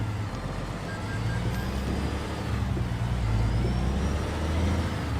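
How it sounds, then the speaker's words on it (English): The engine of a Jon Ruda 379/389 truck in American Truck Simulator, hauling a heavy long load, gives a steady, loud, low diesel drone with a faint rise in revs. No one speaks over it. "And just listen to that Ruda engine."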